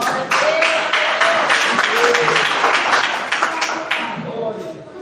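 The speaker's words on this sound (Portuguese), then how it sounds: "Mais palmas para Jesus, igreja." A church congregation claps steadily through the whole stretch, with voices and sung tones carrying over the busy, close applause.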